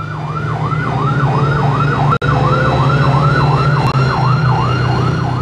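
An airport fire engine's siren wails in a steady, fast rising-and-falling cycle, loud and close over a constant low engine drone, with no talking.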